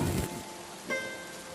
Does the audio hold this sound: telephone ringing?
no